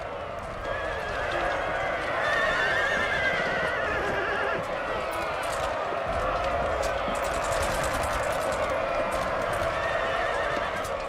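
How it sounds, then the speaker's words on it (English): Horses whinny and hooves clatter amid a dense, continuous cavalry battle din in Napoleon Total War, with French and Russian cuirassiers clashing, loud and sustained throughout. "Over there it seems like we've had a cav battle."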